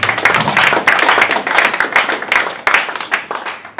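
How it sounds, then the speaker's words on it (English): Audience clapping at a book launch in Ghana, right before a book auction begins. The applause is steady, close and loud, with a few brief dips, and fills the whole stretch with no talk over it. "Please clap for me."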